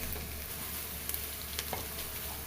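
Oil sizzles steadily in a frying pan after salt goes in while cooking a water lily stem curry, a constant close hiss with a few faint clicks.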